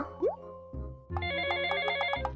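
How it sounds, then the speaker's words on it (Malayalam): A phone ringtone starts up and plays a repeating electronic melody, clear and close, after a brief slide of tones. "ഫോൺ അടിക്കണ്ട്"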